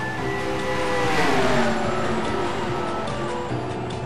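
Race cars roar around Rockingham in a video game race, a continuous loud engine drone with pitch sweeps as cars pass and shift, under faint commentary.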